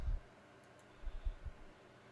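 A computer mouse gives a few soft, close clicks: one at the start, then a short cluster of three after a quiet gap.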